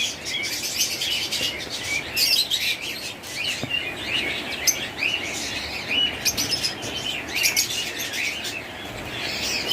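Caged pet birds such as lovebirds, cockatiels and mynas at a bird seller chirp and tweet nonstop, a busy overlapping chorus of sharp calls close by, with occasional wing flutters.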